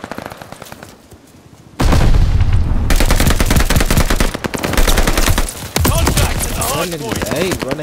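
Video game gunfire in a hardpoint match: loud, dense bursts of rapid automatic shots hammer on almost without pause, after a brief quieter opening, with a voice occasionally underneath.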